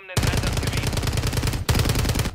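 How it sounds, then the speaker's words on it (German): Automatic gunfire in the video game Warzone, loud close bursts of rapid machine-gun shots with a brief pause before firing resumes. "Da schießen welche."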